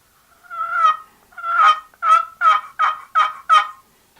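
A redwood box turkey call with a plastic bottom is rubbed lid against sides, producing a series of seven raspy, yelping notes imitating a turkey, two drawn-out ones followed by five quicker, evenly spaced yelps, close and clear.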